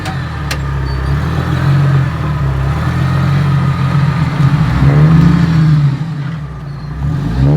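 A 4WD vehicle grinding up the steep Wishing Well track in the Watagan Mountains, a loud, close, low engine drone that surges under throttle and dips briefly near the end.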